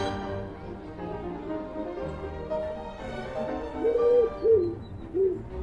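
A bird of prey gives a few hooting calls, short tonal notes rising over a low background hum, with the last three coming close together near the end.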